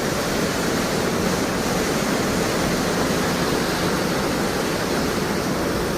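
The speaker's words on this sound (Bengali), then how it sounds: "চারিদিকে ঝর্ণা।" Waterfalls at Gaurikund on the Kedarnath trek in the early morning: a steady, dense roar of falling water fills the whole clip without a break, with no voices.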